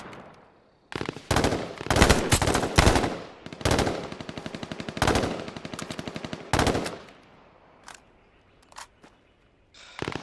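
Video game gunfire in H1Z1 Battle Royale on PS4: loud bursts of automatic weapon fire come in rapid clusters across the first seven seconds, then thin out to a few isolated shots near the end.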